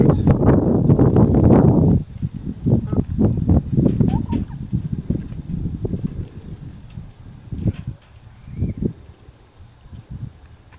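Backyard flock of thirteen chickens, kept near raised garden beds and fed tomatoes, clucking softly in scattered bursts under gusty wind noise on the microphone.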